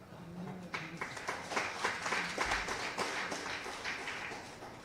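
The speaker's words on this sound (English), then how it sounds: "Thank you very much for your applaud." Audience in a lecture hall applauds a former Indian MP speaking on Partition, a dense wash of clapping with sharp individual claps building and sustaining, with a voice briefly audible beneath it.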